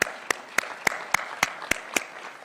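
Claps from an audience at a government event in Kenya, heard as a steady run of about eight evenly spaced sharp claps, moderately loud and close, with no talking over them.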